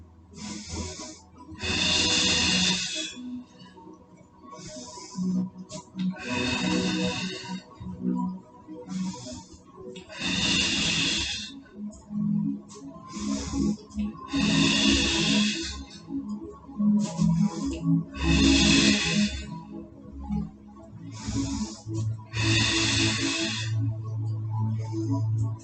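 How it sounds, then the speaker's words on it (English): Slow, deep breaths during a Pilates session with a soft ball, long airy inhales and exhales repeating in a steady rhythm, close to the mic, with faint background sound between breaths. "7 more breaths."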